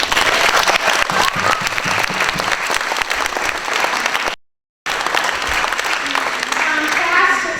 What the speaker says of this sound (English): So I'd like to give a big clap for her.